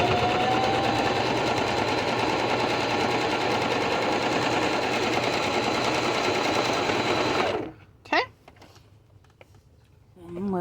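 A sewing machine stitches across a skirt in a steady, loud mechanical whir for about seven seconds, then stops abruptly, leaving a few faint handling clicks and soft sounds.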